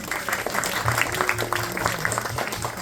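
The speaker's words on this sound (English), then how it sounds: "So give them a round of applause for that" An audience breaks into applause, a continuous wash of many hands clapping close and fairly loud, with a voice speaking faintly over it.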